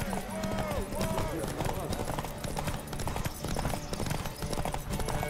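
Horse hooves galloping in a race in The Witcher 3, a fast, continuous clip-clop under lively speech and game background sound throughout.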